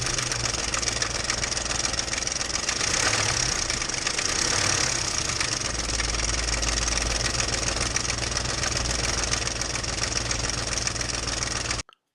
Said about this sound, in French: Et là vous allez entendre le bruit du moteur comme dans la première vidéo que j'ai faite sur le sujet